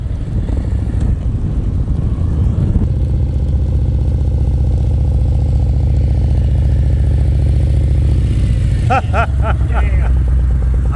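A motorcycle engine chugs steadily at low revs during slow-speed riding practice. The close, even throb holds throughout, and a voice calls out briefly near the end.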